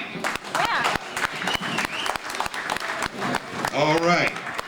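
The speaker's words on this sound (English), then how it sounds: "Ladies and gentlemen, a nice round of applause" A live audience applauds a performer at an evening show, a dense patter of clapping with cheering voices mixed in, steady and fairly loud throughout.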